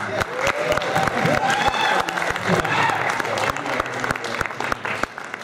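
A crowd applauds steadily at a panel at the MAGFest convention, dense clapping filling the whole stretch and slowly thinning toward the end, with faint voices mixed in.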